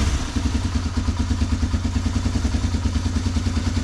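An abandoned Honda Big Red three-wheeler, just revived, runs close by with a steady, rapid thumping idle that pulses evenly and carries no talk over it.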